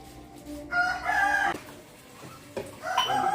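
A rooster crows at dawn in a village during the Bhogi festival, two distinct cock-a-doodle calls separated by a pause, moderately distant with faint background hum and no talk.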